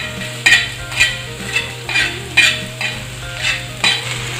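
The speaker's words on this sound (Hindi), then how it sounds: "प्याज को हमने 3 से 4 मिनट तक भून लिया है" Chopped onion frying on a tawa for Mumbai street-style tawa pulao: a steady loud sizzle with rhythmic stirring scrapes about twice a second, close up and with no talking.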